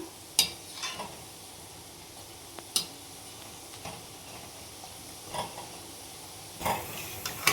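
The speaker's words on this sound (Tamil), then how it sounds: "ஒரு பக்கம் வடை வெந்துருச்சுங்க, நம்ம திருப்பி விட்டுடலாம்" Vada deep-frying in hot oil for a Sunday morning breakfast, turned over partway: a faint, steady low sizzle broken by a few sharp scraping and clinking bursts from the turning, with no voices.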